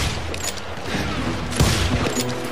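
Gunfire rings out in the Western shooter Call of Juarez Gunslinger as a few loud, sharp shots crack over a busy game soundscape, with one heavier blast partway through.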